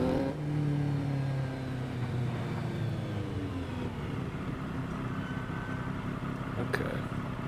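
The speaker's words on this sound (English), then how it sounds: "this audio bug is starting to come up at low revs again" A video game car engine idles and hums at low revs with a steady droning tone, slightly uneven and wavering from an audio glitch, with a brief click near the end.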